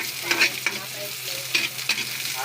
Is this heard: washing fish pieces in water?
no